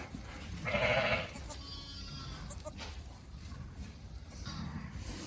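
Sheep and lambs bleating on a farm during spring lambing, with one loud, close bleat early on and fainter calls later, over a low background murmur.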